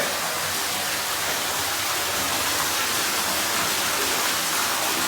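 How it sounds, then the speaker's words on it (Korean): Water from an indoor waterfall at a pool or bathhouse pours and splashes in a steady, hissing rush, constant and fairly close, with no voices. "여기는 폭포가 나오네"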